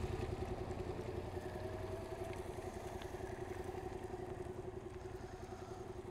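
A Yamaha MT-07 motorcycle rides slowly through a figure-eight on an exam course, its engine holding a steady, fairly quiet low putter with a constant mid-range drone throughout.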